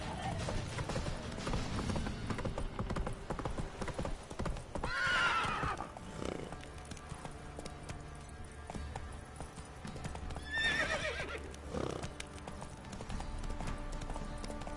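In The Witcher 3, a horse's hooves clop steadily through a town while it whinnies loudly twice, several seconds apart, over a low background of music and ambience.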